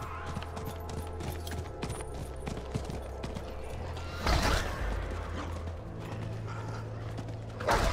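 Horse hooves clip-clop steadily in a Diablo 4 game scene, mixed with creaking, clanking gear and mechanical sounds, with a couple of louder bursts partway through and near the end, and faint talk underneath.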